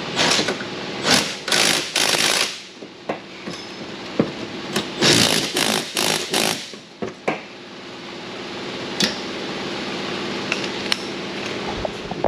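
A 90-degree ratchet threads down bolts on a car during safety-system repair, producing rapid bursts of metallic clicking and ratcheting separated by short pauses, close and fairly loud.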